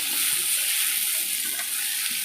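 Chili powder sautés in a hot pan for a colocasia root fry, giving a close, continuous hissing sizzle with light stirring scrapes and no voices.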